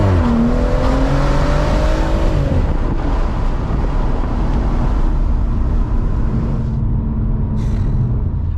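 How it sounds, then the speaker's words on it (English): A Stage 3 tuned BMW M140i 1 Series with its turbocharged engine under hard acceleration, loud and close, with a rising engine tone followed by a steady turbo rush and broad whoosh, no voices. "there's a hint of 911 turbo in the sort of turbo noises and the rushing"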